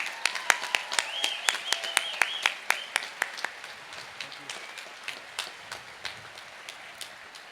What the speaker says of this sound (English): if I could ask the audience for one more round of applause